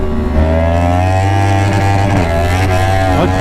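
A motorcycle ridden hard in race mode gives a loud, close, steady engine drone with a deep rumbling tone, holding a constant pitch with slight wavering throughout and no talk.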